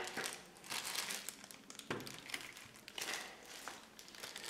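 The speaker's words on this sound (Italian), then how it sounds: "Spacchettiamo la tastiera." Plastic packaging crinkles and rustles continuously up close as a Tesoro Durandal Ultimate keyboard is unwrapped, with irregular sharper crackles and no talking.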